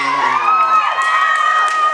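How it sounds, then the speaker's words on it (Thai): Spectators at a school 1,500 m race cheer together, high-pitched youthful voices shouting and whooping loudly and close by in one continuous burst. "เชียร์กันหน่อยเชียร์กันหน่อย"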